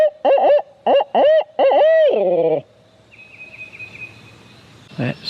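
A voice imitates a hoot owl's call while turkey hunting in Virginia, several rhythmic wavering hoots ending in a drawn-out note, followed by quiet outdoor ambience.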